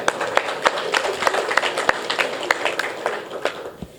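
An audience at a gathering claps in a thin, irregular patter of separate sharp hand claps rather than full applause, moderately close and lasting several seconds.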